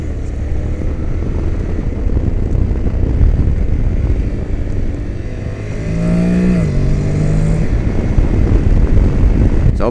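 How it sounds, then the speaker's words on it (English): A Honda NC750X DCT motorcycle with a dual-clutch gearbox downshifting and then accelerating, a loud steady engine drone with a rising rev sweep midway, heavy wind rush throughout. "Downshift and then accelerate."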